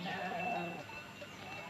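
A sheep bleats once near the start, a short, wavering call heard close by over a quiet rural background, then fades into faint ambient noise.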